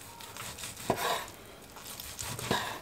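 A knife slices through tough, long-fibred beef on a board for sucuk-flavoured meat, giving a few soft, separate cuts with faint scraping between them, close and quiet.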